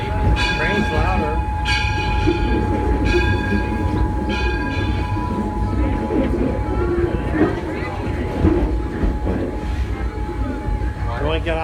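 An Edison excursion train rumbles along its track with a steady clattering roar and squealing wheel tones, short horn-like whistle blasts early on, and people talking over the noise throughout.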